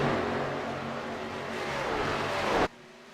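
K&N Series stock cars revving hard at Atlanta Motor Speedway, a loud sustained engine roar that holds steady for a few seconds before cutting off abruptly near the end.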